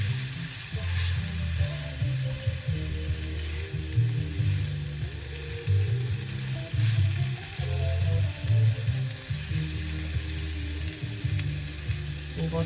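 Potatoes and green onion fry in a pan with turmeric, giving a steady, close sizzle that runs the whole time over a low, uneven background hum, with no talking.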